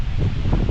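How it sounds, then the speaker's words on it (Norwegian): Strong wind buffets the microphone at a riverside campsite on the Upper Thelon, a steady loud low roar with gusty rustling throughout, no voices. "faen så mye vind her borte"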